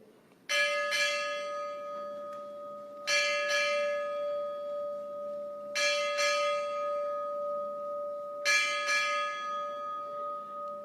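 A ship's bell strikes eight bells at a naval change of command ceremony, ringing in four evenly spaced pairs of clear, resonant strikes, each left to ring out before the next pair.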